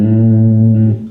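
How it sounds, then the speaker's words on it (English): One sustained bass guitar note played dry with no effects, a clean, full tone held steadily for about a second before it cuts off, close and loud. "this is the sound of the natural instrument."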